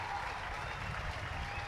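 Crowd at a women's rugby match between Ireland and USA applauding as an injured player walks off, a steady wash of distant clapping, fairly faint, with no talk over it.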